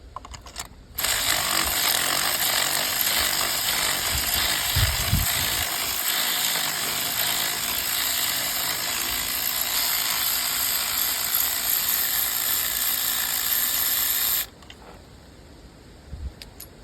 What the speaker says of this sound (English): With the spark plug socket, needs 5/8, and I'm using a 3/8 extension.